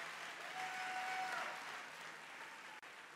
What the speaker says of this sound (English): let's give him a big round of